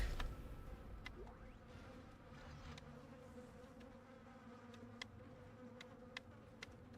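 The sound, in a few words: flies buzzing in video game Dead Space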